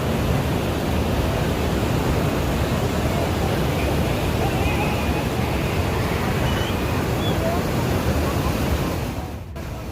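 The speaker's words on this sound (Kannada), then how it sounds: "ಡ್ಯಾಮ್ನ ಮೇಲ್ಭಾಗದಿಂದ ನೀರು ಹೊರಗೆ ಬಿಟ್ಟಾಗ ಹರಿಯುತ್ತಿರುವ ನೀರಿದು" Water released from the top of Vani Vilasa Sagara (Mari Kanive) dam in Karnataka rushing through its outlet channel, a loud, dense, unbroken roar close by that holds steady before easing slightly at the very end.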